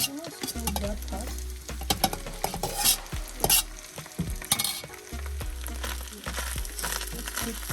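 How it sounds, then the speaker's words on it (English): Fried rice being stirred in a pan until dry, a steady sizzle and frying hiss with repeated scraping strokes of the utensil against the pan, close and continuous throughout. "Just keep stirring like that"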